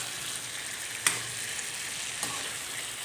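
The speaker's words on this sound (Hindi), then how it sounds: "इसीलिए हम इनको गरम तेल में इस तरीके से भून रहे हैं।" Karonda and chili pieces fry in hot oil for pickle, giving a steady, even sizzle that runs throughout, with a couple of brief clicks or pops.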